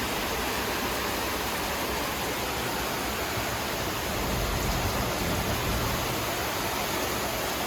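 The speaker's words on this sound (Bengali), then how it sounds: "প্রচন্ড বৃষ্টি হচ্ছে একদম।" Heavy rain pours steadily onto a balcony garden, a dense, even rushing hiss that stays constant throughout with no distinct drops or voices.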